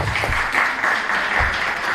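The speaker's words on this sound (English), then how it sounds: "Let's give the members on the panelists a round of applause." A crowd claps loudly and continuously, a dense, even burst of applause filling the whole stretch.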